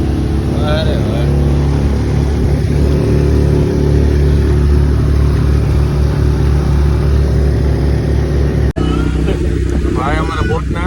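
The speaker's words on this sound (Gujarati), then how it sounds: "એની અંદર આમ બોટિંગ કરીએ છીએ અમે." A boat motor drones loudly and steadily during a river boating ride through a forest near Poovar Island, Kerala, with a brief dropout near the end and people talking over it.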